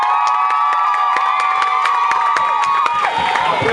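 Wedding guests clap and cheer loudly during a ceremony, a dense crowd roar with whoops and shouts, carried along by a sustained tonal backing that bends near the end.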